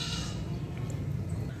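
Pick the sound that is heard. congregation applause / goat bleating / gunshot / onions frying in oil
goat bleating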